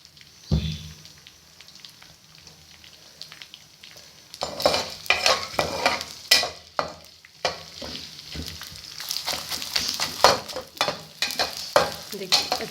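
Cheerh (gond) frying in desi ghee, a quiet start followed by a loud burst of sizzling and bubbling that keeps crackling and popping close by, with stirring, and no talk.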